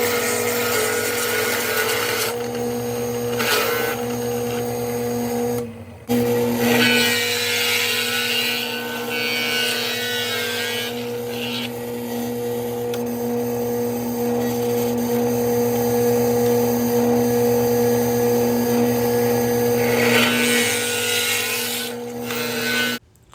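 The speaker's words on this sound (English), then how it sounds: "drill out a lot of holes on each side of this cube of wood" A drill boring many holes into each side of a wooden cube, a loud, steady motor whine with strong tonal hum, briefly cutting out twice and shifting in pitch as the bit bites into the wood.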